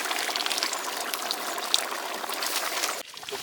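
Lemon juice pours steadily into quail dum biryani in a pot, a continuous close trickle and splash that stops abruptly near the end.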